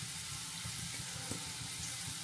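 Dried fish being rinsed in water, heard as a steady, faint hiss and splash of running water that continues without a break, with no voices.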